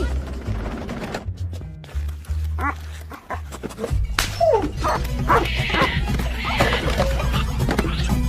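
A dog in an animated film barks amid a busy soundtrack, with horse neighs, hoof clip-clops and voices speaking around it at a fairly loud level.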